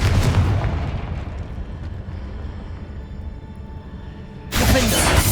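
The Confringo fire spell erupts in Hogwarts Legacy with a loud explosive burst, trailing into a rumbling decay that swells again into a second heavy blast near the end.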